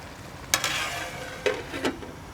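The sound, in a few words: stirring karela gosht cooking in oil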